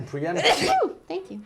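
A single sharp sneeze bursts out mid-conversation, close and loud, followed by a brief pause and then people talking.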